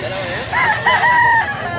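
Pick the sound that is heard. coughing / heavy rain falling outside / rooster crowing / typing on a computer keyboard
rooster crowing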